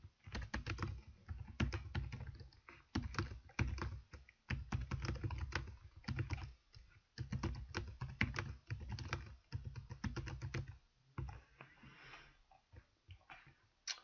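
Fingers type on a computer keyboard in quick bursts of soft clicking keystrokes, separated by short pauses, quiet and close with no voice.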